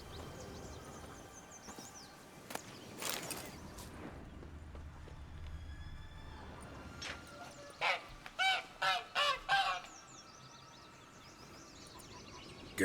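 A goose in The Witcher 3 gives a quick run of about five loud honks near the end. Before that, quieter ambient game sounds and scattered bird and fowl noises fill the background.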